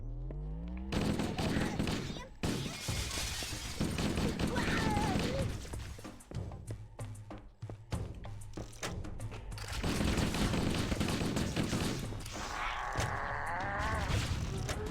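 Assault rifle fire and a fragmentation grenade in the shooter game Halo make dense, sustained bursts of gunfire with heavy booms and battle noise. Someone talks intermittently over the combat.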